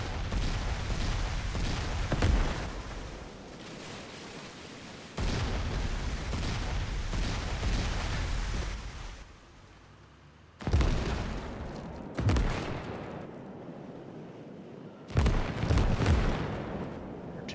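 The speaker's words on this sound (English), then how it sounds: "We've also sent some artillery support as well, so artillery is helping us." Artillery barrages in the World War II game Gates of Hell, Soviet campaign: a loud, continuous rumble of booming impacts with several sharp blasts near the end, no voices.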